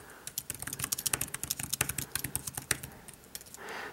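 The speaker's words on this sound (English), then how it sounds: "and I can start typing" Rapid, steady clatter of keys on a Belkin Ultimate Keyboard Case for an iPad, close and clear, with quick irregular taps running continuously for a few seconds.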